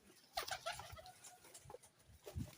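A male Sialkoti pigeon coos softly in a few short, quiet bursts, heard close but faint.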